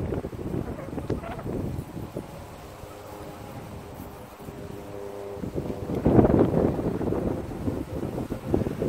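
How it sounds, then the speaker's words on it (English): Wind blows across an outdoor bass pond, buffeting the microphone in uneven rumbling gusts. A stronger burst comes near the end. "a little bit windy"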